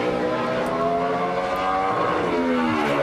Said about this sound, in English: Gets the rev limiter up the backstretch.